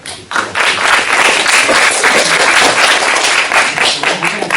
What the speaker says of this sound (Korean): 큰 박수 한번